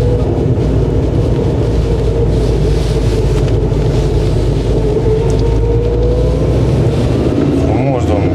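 A black Dacia with a five-speed gearbox drives through the streets of Craiova, its engine a steady, loud low drone with road and wind rumble rising and falling throughout.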